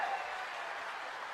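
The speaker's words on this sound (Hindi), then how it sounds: "जरा जोरदार तालियों से उनका स्वागत करें।" A crowd at an outdoor political rally applauds to welcome Rahul Gandhi, a brief, even, distant wash of clapping with no distinct individual claps.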